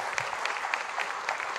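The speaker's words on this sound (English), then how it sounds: "a big round of applause for KV Kamath" Steady applause from an event audience welcoming KV Kamath to the stage, a dense even patter of many hands clapping throughout.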